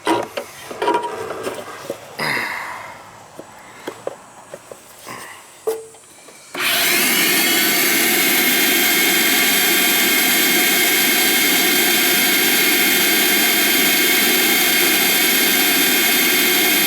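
A vacuum cleaner starts up after some knocking and handling noises while cleaning around an old AC system leaking water into a house, then runs as a loud, steady, unbroken roar to the end.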